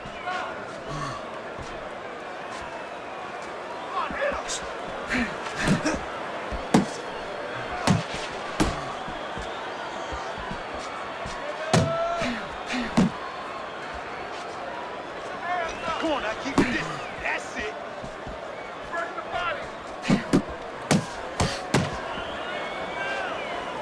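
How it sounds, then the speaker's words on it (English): Punches and jabs land in the Fight Night Champion boxing game during a Tyson versus Ali bout: scattered sharp thuds and slaps in quick bursts, some doubled, over steady arena crowd noise. "Nice job doubling up the jab by Muhammad Ali."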